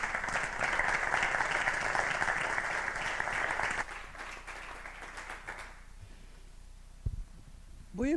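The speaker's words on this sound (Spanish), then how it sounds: "Un aplauso, gracias de verdad por estar hoy aquí" Audience applause fills the hall at an award ceremony for the Navarra Puerta de Europa prize given to Josep Piqué, a broad steady clapping from a crowd that fades after a few seconds before a voice begins speaking.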